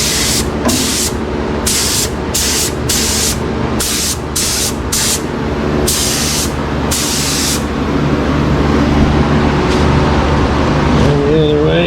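Paint spray gun on an air hose, used to refinish cracked automotive paint, fires in repeated loud hissing bursts of about half a second to a second each over a steady engine-like rumble, with the gun then falling quiet.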